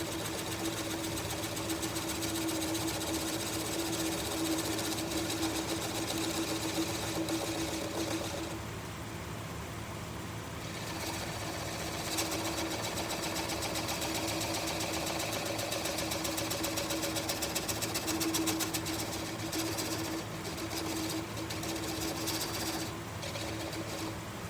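Wood lathe spinning a camphor bowl while a spindle detail gouge cuts, a steady continuous whir with a faint drone that briefly dips mid-way, then resumes at the same even level without talk.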